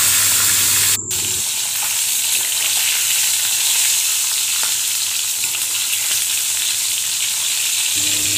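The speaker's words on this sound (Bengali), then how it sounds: "মাছের মাথাগুলো আমি নুন হলুদ মিশিয়ে নিয়ে ভেজে নেব" Rohu fish heads rubbed with salt and turmeric fry in hot oil, with a loud, close, continuous sizzle broken by a brief gap near the start and no one speaking.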